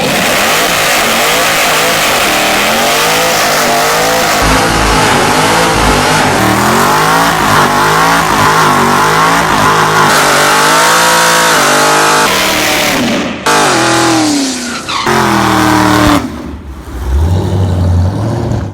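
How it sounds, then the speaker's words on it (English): A high-powered car of over 700 rear-wheel horsepower doing a huge burnout, its engine held at a loud sustained roar with rising and falling revs and tyre noise, close by, ending in short bursts. "We know the car can do a huge burnout."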